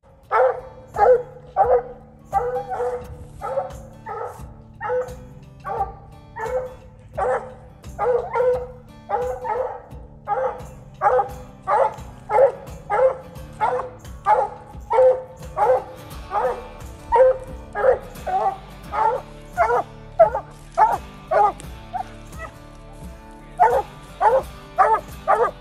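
Bluetick coonhound barking at a tree during a coon hunt, a steady run of loud, close bawling barks about one a second that continues throughout with only brief pauses.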